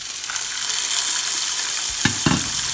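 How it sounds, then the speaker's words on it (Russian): Tomatoes fry in hot vegetable oil with a loud, continuous close sizzle, and near the end two soft thuds sound as the pieces are moved about in the pan. "На этом масле обжарить помидорчики."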